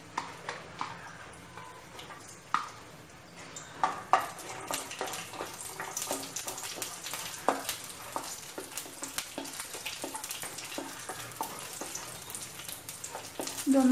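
Cashew nuts frying in hot ghee in a pan, a steady crackling sizzle with scattered sharp pops and occasional stirring ticks, close and moderately loud throughout.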